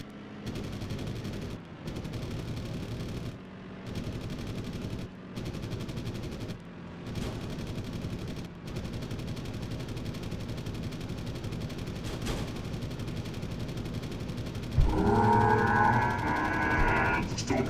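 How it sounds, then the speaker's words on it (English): An aircraft's tail guns fire in a video game in long, continuous rattling bursts broken by short gaps, steady and moderately loud, ending under a rising engine drone. "Starting to get tail guns."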